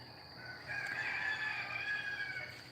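Roosters crowing on a quiet morning on the Big Island of Hawaii, one drawn-out cock-a-doodle-doo rising and fading at moderate distance over a soft, still background.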